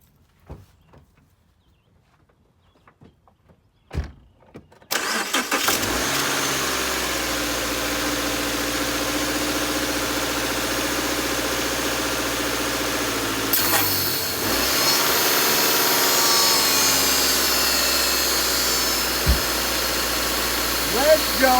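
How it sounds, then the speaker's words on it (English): A Subaru XV Crosstrek engine cranks and catches after a few faint clicks, then settles into a steady idle with a further rise partway through, running continuously and fairly near. "I'm about to start it up, see if it works."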